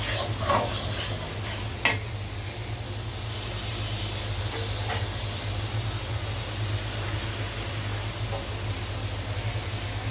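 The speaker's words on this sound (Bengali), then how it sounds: "এইভাবে মশলাটা সব সুন্দর করে ভেজে নিব উপরে তেল ওঠা পর্যন্ত" Ground spice paste of green chili with chili powder frying in oil, a steady close sizzle with a low constant hum beneath, a sharp clatter near the two-second mark and occasional light scrapes of stirring.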